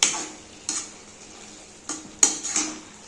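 Tempered garlic and capsicum are stirred into pepper chicken fry in a pan, with four distinct metallic scrapes and clanks of a spoon against the pan over a faint sizzle, close and without speech.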